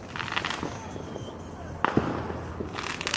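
Cheap low-cost fireworks crackle and pop outdoors at a Fourth of July gathering, with a couple of sharper bangs standing out among scattered small bursts while voices chatter throughout.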